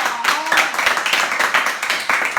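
Fans at an idol group's anniversary event applaud in a dense, close burst of hand claps lasting a couple of seconds.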